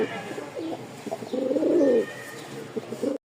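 Pigeons, including a tiger pair kept in breeding mode, coo softly in a close, rhythmic series of low throaty calls, with a louder stretch in the middle and faint background noise.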